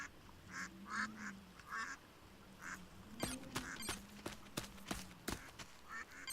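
Ducks quacking at a duck pond in the audio game A Hero's Call, a string of short honking calls repeated through the clip, fairly faint against a quiet background with some sharp clicks.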